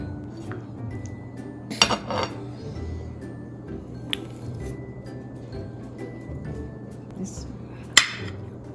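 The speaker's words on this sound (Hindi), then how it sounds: "आपको स्लाइस काट के दिखाएंगे कैसे निकलती है।" Knife and plate clinks while cutting a slice of flan cake, a few sharp metallic taps and scrapes against dishware over quiet room noise, with light background voice.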